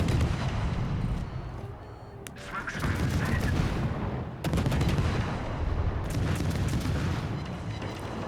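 Naval gunfire in World of Warships, with booming cannon blasts and rumbling battle noise filling the space, shots coming in dense bursts close up.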